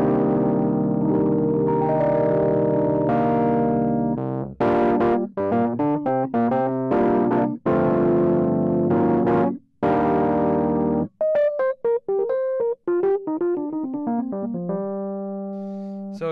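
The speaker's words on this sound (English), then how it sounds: "So it gives it a more like muddy sounding, almost like a tube distortion to it." A Fender Rhodes electric piano plays through a Blues Driver overdrive pedal, giving gritty, tube-like distorted chords that sustain, then short choppy stabs, ending in a descending run of single notes, loud and close, with no talking.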